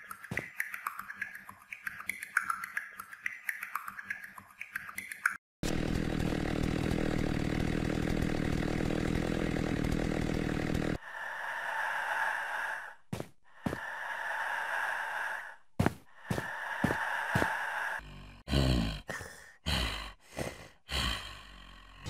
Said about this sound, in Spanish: los Brutetubbies y Clawtubby son los únicos tubbies que producen algún tipo de sonido o jadeo cuando están en pasivo